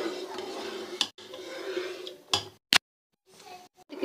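Spoon stirring carrot and rice kheer in a metal pot, with a few sharp clinks and scrapes against the pot separated by quiet pauses, close and moderately loud over a soft background hiss.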